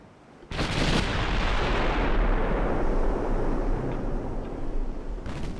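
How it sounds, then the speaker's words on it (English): A warship's big guns fire in the naval video game Ultimate Admiral Dreadnoughts: a sudden loud broadside blast, then a long rumbling roar that slowly fades, with a second sharp report near the end and no talk. "Rotating the guns around, ready to fire. Fire when ready."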